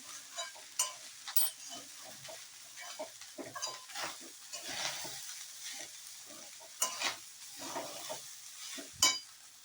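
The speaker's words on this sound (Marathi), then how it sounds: "हे बघा, असं चांगलं परतून घ्यायचं आहे." Vegetable fried rice is stir-fried on a high flame, crackling and sizzling loudly as a spatula tosses and scrapes it around the pan in quick, irregular strokes.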